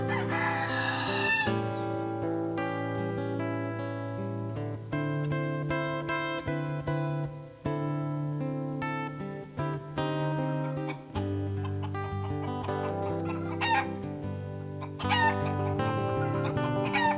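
A rooster crows and chickens cluck over steady, loud music with sustained tones, the fowl sounds partly buried beneath it throughout.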